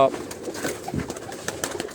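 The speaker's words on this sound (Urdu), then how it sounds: "یہ کبوتر یہ دو مادائیں ہیں, یہ آپ دیکھ رہے ہیں" Two female pigeons coo softly in a loft, low gentle burbling calls repeating over a faint background with some rustling.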